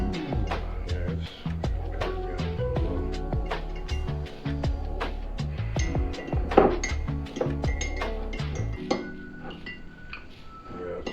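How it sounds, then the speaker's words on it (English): A spoon scrapes and clinks against a pan while stirring thick sausage cream gravy, giving a steady run of close metallic taps and scraping strokes. "settled down on the bottom, so I'm trying to get it stirred back in"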